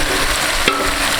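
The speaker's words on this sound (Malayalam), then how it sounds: "നല്ല മാരിനേറ്റ് ചെയ്ത് വെച്ച ചിക്കൻ ഇതിൻ്റെ ഉള്ളിലേക്ക് നമുക്ക് ചേർക്കാം." Marinated chicken sizzles loudly after going into a pan of fried onions for chicken kurma, a constant frying hiss with one brief clack of a utensil partway through.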